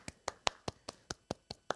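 A single pair of hands claps in a steady, even rhythm, nine sharp, close claps about a fifth of a second apart, alone with no talking.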